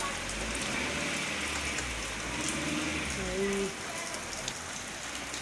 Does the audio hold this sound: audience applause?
no